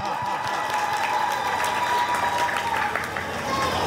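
Audience applause after a poetry recitation, a continuous patter of many hands clapping at moderate loudness, mixed with some crowd voices.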